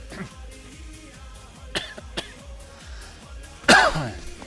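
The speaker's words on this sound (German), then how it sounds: "ist schon am Husten." A character in the survival video game Rokh coughs in a sharp burst near the end, loud over game music and ambient effects.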